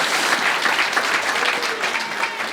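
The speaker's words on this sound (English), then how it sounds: "Give her a big round of applause." Audience at a live podcast recording giving a round of applause, a brief burst of dense clapping from a crowd, steady and fairly loud.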